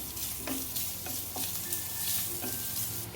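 Grated fresh coconut being sautéed in a pan, a dense close sizzle with regular soft scrapes of stirring about every half second, with no voices.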